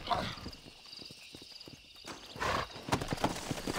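Horse hooves clip-clopping at a steady walking rhythm in the Red Dead Redemption video game, moderately close, with occasional louder hoof strikes and some background game ambience.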